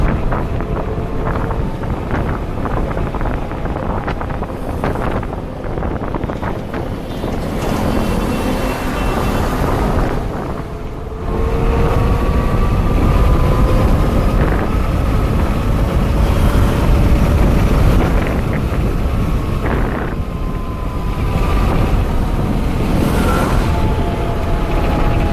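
Steady, loud wind roar buffets the microphone as an Ola S1 Pro electric scooter accelerates hard at speed, rising in intensity partway through, with no talking.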